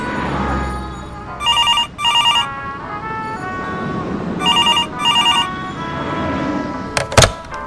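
A telephone bell rings in two pairs of short bursts, loud and close, over a steady background hum, ending with a sharp clunk.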